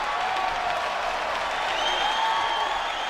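A sold-out arena crowd at an MMA event in the Mandalay Bay Event Center roars and applauds, a dense, steady wash of cheering and clapping that holds at full volume throughout.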